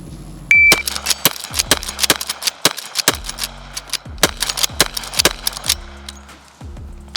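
Lever action rifle firing .38 Special rounds in rapid succession, a string of sharp loud reports with metallic action cycling between shots, close and unaccompanied by talk.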